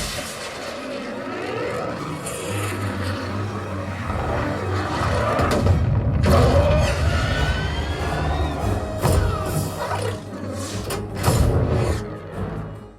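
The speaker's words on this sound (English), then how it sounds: "So I threw in Godzilla King of the Monsters on 4K Blu-ray." Dense, loud surround movie soundtrack from Godzilla King of the Monsters on 4K Blu-ray, played through Focal Sopra No1 bookshelf speakers: a sustained wall of rumbling low end, booming impacts and swelling orchestral-like layers with no talking.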